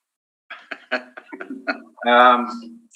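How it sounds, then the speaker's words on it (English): During a Board of Revision meeting, a man gives a series of short, close coughs and throat clears, ending in a longer voiced, throaty cough-like sound. "Nothing like coffee to still a cough."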